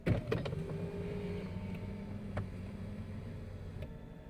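Electric mirrors and a memory seat on a Jaguar S-Type 3.0 V6 moving after a memory button press: a steady low motor whir running throughout, with small clicks near the start and end, close and moderately quiet, no talking.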